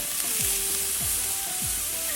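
Corn and beef cook on a barbecue stove in a backyard, a steady loud sizzling hiss with faint low thumps and clinks from handling the food.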